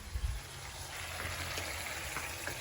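Two cups of water poured into Mexican rice browning in a hot pan, a steady close gushing hiss and sizzle running the whole time with no talking.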